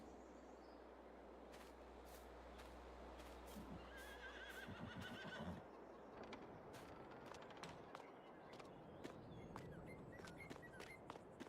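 Buell, a horse on a farm in a farming video game, neighs and whinnies with nearby clip-clop hoof sounds over a steady ambient hum, with scattered sharp clicks and ticks following.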